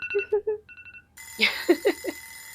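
An alarm clock set for 3:30 rings in bursts of rapid beeping, first in a short repeated pattern, then louder with a steady electronic tone underneath.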